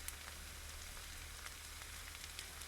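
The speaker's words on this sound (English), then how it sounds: "Letting that simmer up" Mexican breakfast hash with diced potatoes, salt, pepper and garlic simmering in a cast iron pan over a campfire, a faint, steady crackling sizzle with no talking.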